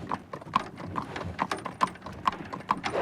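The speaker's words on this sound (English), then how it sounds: "you can hear the banging of the horse hooves on the ground" Horse hooves clip-clop steadily on hard pavement, a regular trotting rhythm of sharp knocks against faint street background.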